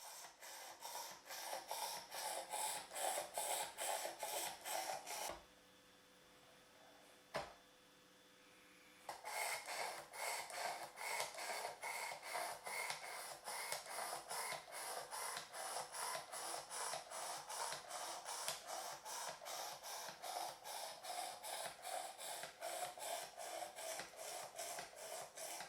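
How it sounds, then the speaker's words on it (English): A knife blade strokes steadily against the abrasive of a Work Sharp Precision Adjust sharpener, giving a close, rhythmic rasping scrape. The strokes pause for a few seconds and then resume at the same even pace. "I was using the Workshop Precision Adjust knife sharpener."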